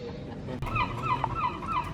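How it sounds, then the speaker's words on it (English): Seagulls calling in a run of four or five short honking cries, moderately close outdoors, over a steady background murmur with no talking. "Those seagulls are doing me head in."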